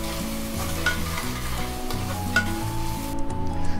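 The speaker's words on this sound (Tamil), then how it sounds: "ஹை ஃப்ளேம் வேணாம், மிதமான தீயில் வச்சு வதக்கிக்கலாம்." Ginger garlic paste sautéing on a medium flame for mutton keema rice, a steady loud sizzle with continuous stirring and faint scraping throughout, no voices.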